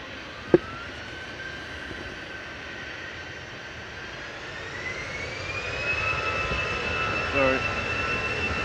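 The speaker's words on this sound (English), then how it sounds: "We've also got a TUI Dreamliner taxiing out" A TUI Boeing Dreamliner taxis at Manchester Airport, its jet engines giving a steady distant whine that rises and grows louder partway through, with a sharp click early on and voices faintly in the background.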